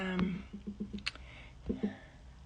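Light clicks of a computer keyboard being typed on, a short burst of several quick taps followed by a pause and a couple more, fairly quiet with faint room sound around them.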